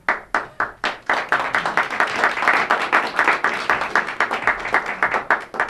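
Audience applause at a 2002 annual meeting of a local access television station, starting with a few separate claps and quickly building into steady, dense clapping from a roomful of people that carries through to the end.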